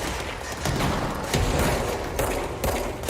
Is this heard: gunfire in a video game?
yes